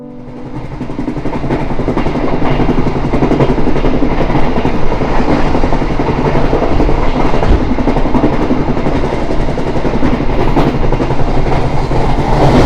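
The Pandalungan train on its Jakarta–Jember run, heard from inside the passenger carriage: a loud, continuous rumble and rattle of the moving train with a faint rhythmic clatter of the wheels on the track.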